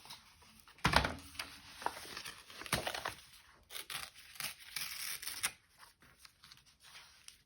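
Close scissors snip and rustle through paper in irregular bursts, with crisp cuts and handling noises between them, no voices.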